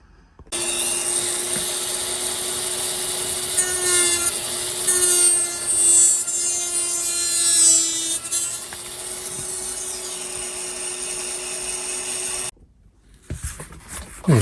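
Continuous grinding or cutting on the hitch of an RC army truck build, a steady close whine with shifting pitch lasting most of the stretch before stopping abruptly, followed by a few light handling knocks.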